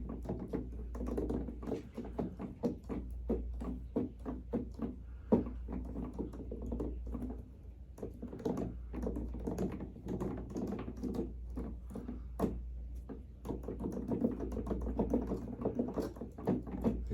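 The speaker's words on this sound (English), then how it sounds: "Putting my hands on it and pressing the keys for the very first time." Plastic keys of an M-Audio Hammer 88 Pro 88-key keyboard, light action, being pressed for the first time: a steady run of close, dull clacks and thumps in quick irregular rhythm with no tones, continuing throughout with no talk.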